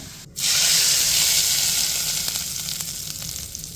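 Dry coriander and cumin tempering hits hot oil for a radish chutney, bursting into a loud sizzle that hisses steadily and slowly eases, close and without talk.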